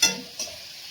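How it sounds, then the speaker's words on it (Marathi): Tomatoes, a green chili and a handful of cashews roast in a pan, giving a soft sizzle with a couple of brief stirring scrapes, quiet and close with no talking. "टोमॅटो आणि एक मिरची आणि 10-12 काजू एवढं टाकून घेतले. आता त्याला भाजून घ्यायचं."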